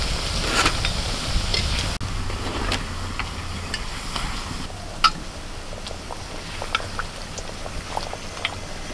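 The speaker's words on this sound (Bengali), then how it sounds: "এরকম হালকা একটু কালার এলেই ভেজে তুলে নিতে হবে।" Nanpuri deep-frying in hot oil on a high flame makes a steady, close bubbling hiss with occasional small pops and crackles.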